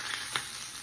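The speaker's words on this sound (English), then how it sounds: "I'm frying some ham" Ham frying with jalapenos in a pan, a close, steady sizzle with a few brief crackles and pops over less than a second, with no talk.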